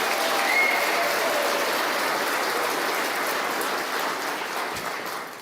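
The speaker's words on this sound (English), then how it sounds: "Let's give him a round of applause." A crowd gives Lee Zeldin, head of the Environmental Protection Agency, a round of applause: dense, steady clapping like heavy rain that fills the room and slowly tapers toward the end.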